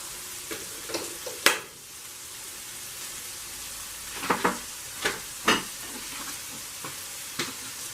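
A tortilla warms on a hot griddle, giving a faint, quiet sizzle broken by a handful of brief, sharp crackles and pops spaced unevenly through the stretch.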